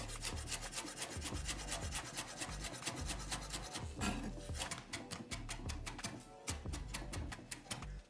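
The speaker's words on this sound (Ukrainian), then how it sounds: "Беремо зелень і нарізаємо дрібно зелень." A knife finely chops fresh herbs on a board in a fast, steady stream of light taps, faint and close, continuing without pause.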